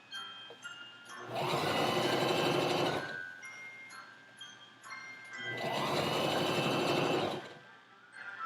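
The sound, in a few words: sewing machine sewing in a shirtwaist sleeve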